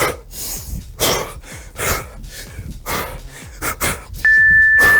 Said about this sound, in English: You hear my breathing.